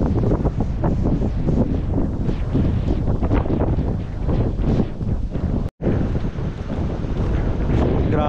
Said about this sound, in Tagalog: yung hangin galing dagat oh. Sobrang lakas.